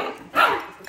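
A doodle puppy lets out a brief, close growl with a small bark-like rise in the middle, lasting under a second.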